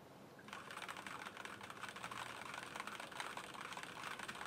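Rapid typing on an ErgoDox EZ split keyboard fitted with Kailh Black switches, a dense continuous stream of clicky keystrokes at close range with no talking.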